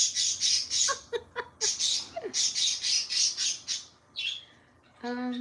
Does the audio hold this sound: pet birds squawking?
yes